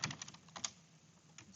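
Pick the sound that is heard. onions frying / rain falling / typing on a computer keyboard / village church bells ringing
typing on a computer keyboard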